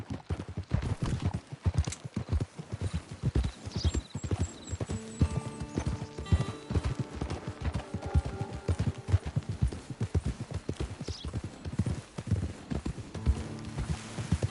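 Horse hooves clip-clop at a steady walking rhythm in a video game, with a whinny and faint background music joining partway through.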